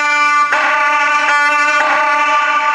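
Suona horn voice played on a Main M2000 electronic wind instrument, a loud, bright, reedy sustained tone with a few note changes and no talk.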